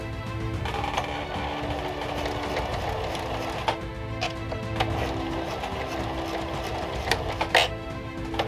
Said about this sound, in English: I'm just gonna sew it onto the right side and then I'll try it on